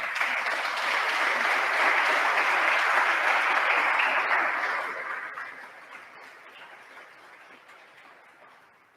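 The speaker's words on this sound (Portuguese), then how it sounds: "Você pode aplaudir a Jesus?" Church congregation applauding in a loud, dense wash of clapping that holds steady for several seconds, then gradually fades out toward the end.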